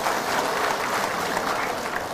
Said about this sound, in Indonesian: kenapa lo orang ini ragu-ragu tepuk tangan begitu?